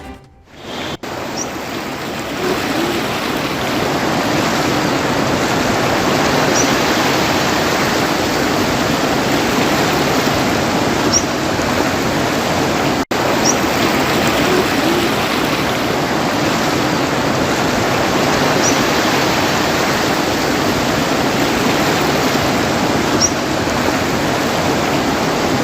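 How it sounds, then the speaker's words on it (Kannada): Alaknanda river in flood at Namami Ghat, Rudraprayag: a loud, steady roar of rushing water runs unbroken from start to finish, with no voices. "ರುದ್ರಪ್ರಯಾಗ್ನ ನಮಾಮಿ ಘಾಟ್ ನದಿ ಉಕ್ಕಿ ಹರಿತಾ ಇದ್ದು"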